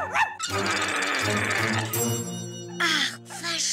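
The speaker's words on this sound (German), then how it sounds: "Das Wort macht den Köter völlig verrückt." Dog barking wildly in a German children's TV episode, a burst of loud, harsh, frantic barks packed together, with shorter yelps at the start and end and no talk over it.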